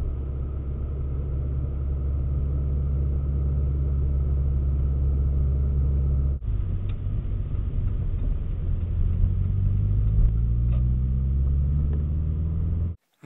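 Car interior while driving, recorded by an HD DVR dash cam mounted behind the rear-view mirror: steady low engine rumble and road noise throughout, with a brief shift midway and rising engine tones near the end before cutting off.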